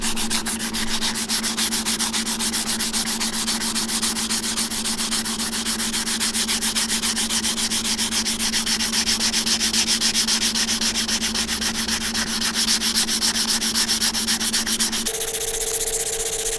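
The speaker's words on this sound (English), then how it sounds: "We've got some 320 grit sandpaper right here, and let's get started on sanding all of this right here." Car part being sanded by hand with 320 grit sandpaper to remove texture, a steady, rapid back-and-forth rasping scrub that continues nearly the whole time, close and fairly loud, changing character briefly near the end.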